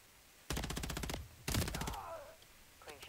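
Rapid automatic gunfire from the video game Call of Duty Modern Warfare 3 comes in two close, loud bursts, each about half a second of evenly spaced shots, followed by a fainter tail and quiet background.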